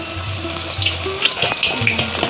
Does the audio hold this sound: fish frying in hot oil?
yes